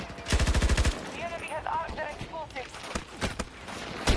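A rapid burst of machine gun fire in Battlefield 2042, a dozen close, loud shots in quick rhythm, followed by scattered distant gunfire and battle noise while someone talks.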